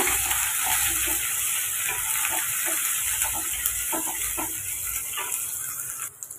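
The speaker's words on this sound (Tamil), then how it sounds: "ஒரு மிளகாய் கொஞ்சமாக வெங்காயம் சேர்த்துட்டு இப்போ அதை வதக்கி விட்டுருங்க" Chili and onion sauté in a hot pan, a constant close sizzle broken by irregular scraping stirs and clinks of a spatula, with a louder clatter near the end; no one speaks.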